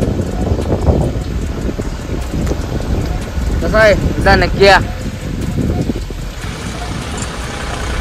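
Heavy rain keeps falling on a farm beside a sugarcane field as a steady close hiss, while someone talks over it and a brief chirping call rises midway.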